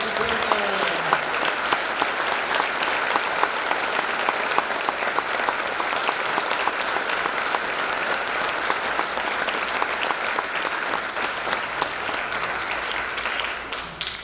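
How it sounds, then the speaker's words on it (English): Sustained audience applause for a graduating high school class of 2025 at a spring band concert, loud and dense with steady clapping throughout, tapering slightly at the very end. "Ladies and gentlemen, how about a round of applause for the incredible Pelican Rapids class of 2025."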